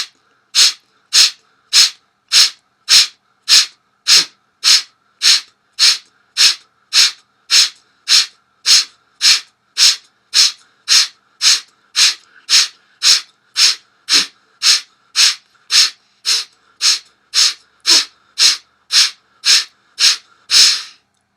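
Rapid forceful breaths through the nose in a pranayama breathing series, about thirty sharp, evenly spaced puffs in a steady rhythm, loud and close with no talking.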